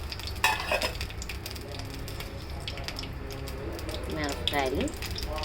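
Cumin seeds and four dried red chillies, added after mustard seeds, sizzle and crackle steadily in hot oil in a pan, with occasional stirring clinks and a voice talking over it.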